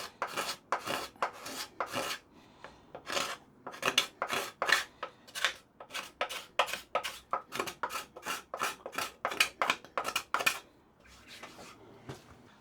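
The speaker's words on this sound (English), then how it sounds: "one of my favourite tools, the card scraper, is also fantastic here" A card scraper pulled in quick, steady strokes across hardwood while shaping a saw vice, each pass a sharp, bright scraping rasp in an even rhythm, close up and clear, with no voices.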